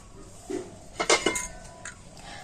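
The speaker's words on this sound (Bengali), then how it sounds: "এইভাবে কিন্তু ব্যাটারটা গুলে নিতে হবে" A spoon clinks against a bowl while stirring thin batter for an oil-free paper pitha, giving a short cluster of close, bright metallic taps and clinks over a quiet background, with one lighter tap trailing after.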